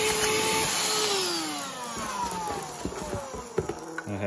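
A small cordless vacuum from a returns pallet whines close by, its pitch falling as the motor spins down, followed by clicks and handling knocks.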